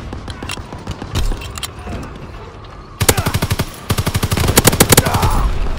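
Video game battle gunfire: sparse shots and faint machine noise first, then loud, close bursts of rapid automatic fire in quick repeating volleys.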